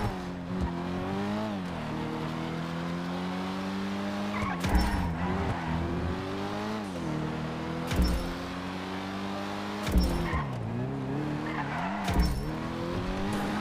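Car racing in GTA 5 with engine revving through repeated gear shifts and loud tire skids recurring every few seconds, close and steady throughout.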